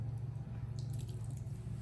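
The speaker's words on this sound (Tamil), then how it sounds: "இப்போ தண்ணி கொஞ்சம் போடணும்," A little water trickles and drips into a coconut mixture being worked by hand while cooking Sri Lankan food, a faint splashing over a steady low hum.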